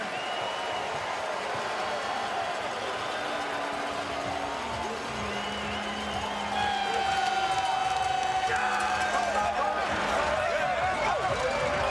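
Stadium crowd at a CFL football game between the Edmonton Elks and the Calgary Stampeders in Calgary, a steady roar of fans with whistles and swelling cheers, while an announcer talks over it.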